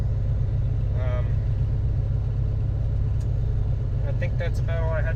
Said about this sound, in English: It idles. It's fast idle, but it's idling.